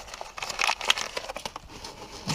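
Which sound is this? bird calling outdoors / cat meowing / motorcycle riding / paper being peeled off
paper being peeled off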